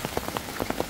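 Heavy rain pours on surfaces in the Santa Mónica community of El Salvador, a dense, steady close patter with scattered louder drops during a brief stretch.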